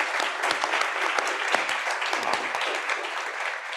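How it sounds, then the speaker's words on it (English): Dense, continuous applause from a panel audience, loud clapping sustained evenly for a few seconds with no speech over it. "So if we can just have a round of applause for everyone here."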